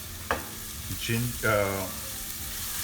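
Minced meat seasoned with garam masala and coriander powder browns in a pan for keema samosas, giving a short burst of frying sizzle and stirring scrapes while a person speaks over it.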